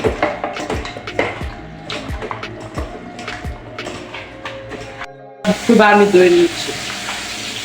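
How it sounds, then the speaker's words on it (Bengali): Chicken sizzles in a hot kadai while a utensil scrapes and taps repeatedly as it's stirred, with a louder burst of frying near the end. "অল মিক্স করে ভালো করে কষানোর জন্য ভালো করে মিক্স করা হচ্ছে।"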